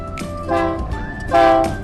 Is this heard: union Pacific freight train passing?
yes